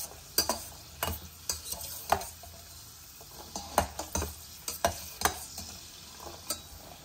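Curry leaves frying in hot oil in a deep pot for tempering, a steady soft sizzle broken by repeated sharp spoon clicks and scrapes against the metal, close and without voices.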